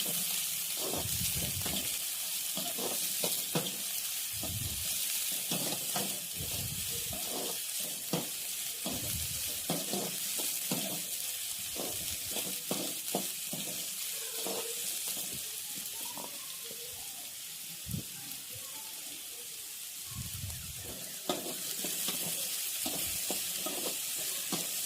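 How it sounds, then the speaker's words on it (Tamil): Three large onions, finely chopped, sauté in a pan with a continuous close sizzle, broken by repeated scraping and stirring strokes of a utensil against the pan. "பெரிய வெங்காயம் மூணு எடுத்துக்கலாம், பொடியாக கட் பண்ணது. இதில் சேர்த்துட்டு நல்லா வதக்கி விட்டுருங்க."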